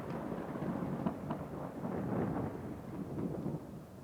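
Thunderstorm in the video game RoadCraft, Washout mission: a continuous low rumbling roar of thunder and rain-like noise, steady and fairly loud throughout with no voices.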